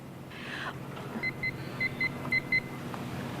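A mobile phone gives a string of short, faint electronic beeps in pairs over a low background rumble, with no talk.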